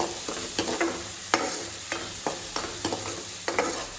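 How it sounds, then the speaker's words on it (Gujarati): Poha with tomato, chilli, salt and cumin powder is stirred and sautéed in a pan. Repeated spoon scrapes and clinks come at an irregular rhythm over a steady low sizzle, close and moderately loud, with no talking. "તો બરાબર મિક્સ કરી દઈશું."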